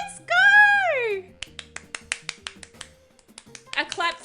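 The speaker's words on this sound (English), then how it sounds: "A clap for me and a clap for chat for helping." A small burst of hand clapping or snapping follows a cheer after a puzzle game ceremony is finished, roughly a dozen sharp, evenly spaced claps. Voices and a game melody are heard before and after.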